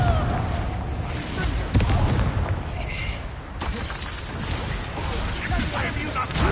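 A blasting spell in a PS4 game sets off booming, rumbling blasts and mechanical clatter amid a busy game soundscape, with a voice speaking now and then.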